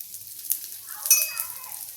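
Gluten-free puffed rice thalipeeth frying in oil on a pan, giving a soft, quiet sizzle with a few light crackles and pops throughout.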